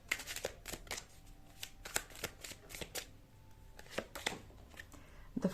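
Tarot cards are shuffled by hand in a series of crisp, close riffling bursts and soft slaps, coming in irregular clusters with short pauses between them.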